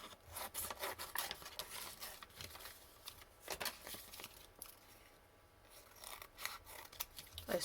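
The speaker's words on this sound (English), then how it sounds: "we need to be cutting these up" Scissors cutting paper pieces for a junk journal, a string of quick snips and papery rustles in irregular bursts, close and quiet, with a short lull near the end.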